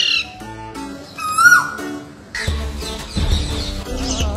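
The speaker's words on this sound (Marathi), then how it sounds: "चिमण्या, पोपट," Sparrows and parrots call at a window where birds come for water and food in Pune, giving close, loud chirps, squawks and whistles in bursts, denser toward the end.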